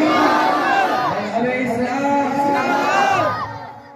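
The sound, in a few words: crowd chanting religious slogan in response to Nara-e-Takbir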